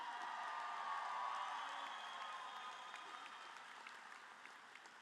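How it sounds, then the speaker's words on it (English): A large crowd at a high school graduation ceremony cheers and applauds, a steady, dense wash of clapping and whoops that fades slightly, heard from a distance. "put your hands in the air and cheer"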